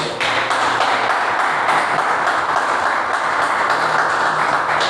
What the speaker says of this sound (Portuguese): Aplauda ao Senhor, glória a Deus.